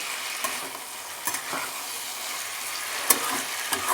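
Vegetables sauté in fish oil in a pan with a soft, steady sizzle, interrupted by intermittent spatula stirs and scrapes, one sharper clack among them. The sound is close and quiet, with no talking.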